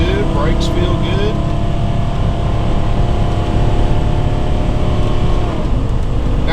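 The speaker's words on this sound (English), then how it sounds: "you do have a little bit more motor noise in a Class C" A 2013 Coachmen Leprechaun 317SA Class C motorhome's motor drones steadily and loudly while driving, a constant low rumble with road noise and a faint whine throughout.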